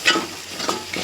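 Masala curry with homemade kala masala and garam masala simmers over low flame in a pan, soft sizzling mixed with brief scraping stirs of a spoon, close and fairly quiet.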